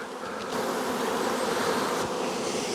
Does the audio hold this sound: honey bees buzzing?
yes